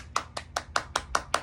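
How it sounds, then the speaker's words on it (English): A single person claps hands steadily about seven times in quick, even rhythm, each clap sharp and close, with no talk over it. "A round of applause."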